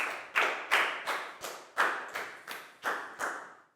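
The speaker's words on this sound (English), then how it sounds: "Big round of applause for Lak Gao," A few slow, separate hand claps ring out in a classroom for a pupil, about nine distinct claps, each followed by a short room echo, fairly close and moderately loud.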